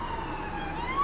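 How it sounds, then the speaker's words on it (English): Ambulance siren passing on a nearby street, its rising wail steady and moderately loud for about a second and swelling toward the end, with no voices. "ambulance going by"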